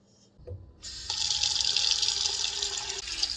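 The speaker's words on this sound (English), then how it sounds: "rinse these in water, in cool water, and then drain it" Cool tap water gushes steadily into a bowl of lentils being rinsed, starting after a brief clunk and running continuously and close for a few seconds.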